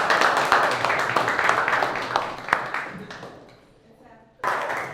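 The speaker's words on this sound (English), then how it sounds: "A round of applause for yourselves." Group of young entrepreneurs applauds themselves, loud close clapping from several people that gradually tapers off, then a voice starts talking at the end.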